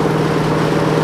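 Engine of a 1957 Chevrolet Bel Air restomod running at a steady, loud idle, a continuous low rumble with a smooth, even pulse throughout.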